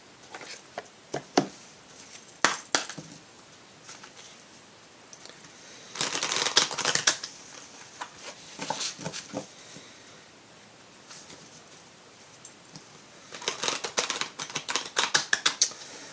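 A deck of Oracle des Météores oracle cards is shuffled by hand in close, papery bursts. Some short riffles and flicks are separated by quiet gaps, with a longer busy flurry near the end. No one speaks.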